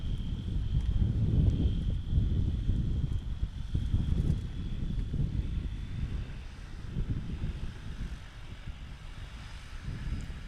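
STOL aircraft taxiing at an airfield competition in Hartford, Wisconsin, a steady propeller engine drone rising and easing over wind noise on the microphone, no talk.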